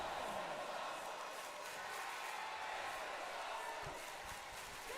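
Crowd noise from a wrestling video game's cruiserweight match, a steady, fairly faint wash of cheering with a few brief thumps near the end.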